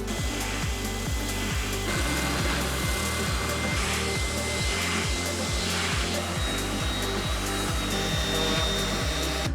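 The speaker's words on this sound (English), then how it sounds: "it's time to just sand everything." Wooden music box parts are sanded with a power sander, its steady loud whine running throughout with a regular rubbing pulse as the pad moves across the wood.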